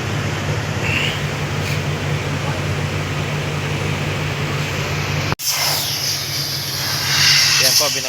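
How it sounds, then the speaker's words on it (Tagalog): Air hisses steadily out of a vehicle tire being deflated for driving on sand, a loud continuous rush that stops abruptly, followed by quieter outdoor background sound. "binabawasan na po ang ating gulong ng hangin"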